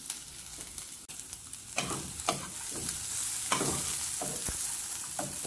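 Pancetta fries in a pan as its fat renders, a steady close sizzle broken by several sharp scraping stirs and clacks of a utensil against the pan.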